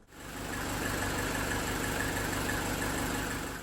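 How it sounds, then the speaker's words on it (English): A Mercedes 190D diesel engine idles steadily and close by, a continuous low rumble with a faint rhythmic pulse, and no other sounds over it. "Set your timer for 20 minutes while this is idling."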